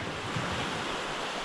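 Wind and waves at sea beside a large sand island with white sand and clear water, a steady broadband rush with microphone wind buffeting, no voices.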